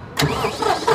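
A John Deere 5310 CRDi tractor engine cranks and catches after a short silence, then settles into a steady, close mid-pitched idle.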